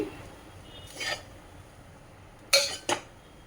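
Fried coconut scraped from a pan onto a metal plate, heard as a few brief metallic clinks and scrapes, two sharper ones near the end, with quiet gaps between them and no talk.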